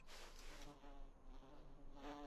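A quiet, continuous insect drone of flies hovers close by in the video game Voices of the Void, rising and fading slightly over a couple of seconds.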